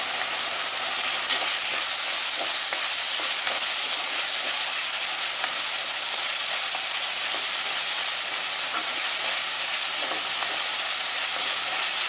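Onions and tomatoes sauté in a clay pot for dried-fish thokku, giving a steady, close, unbroken sizzling hiss that holds evenly for the whole stretch with no voices.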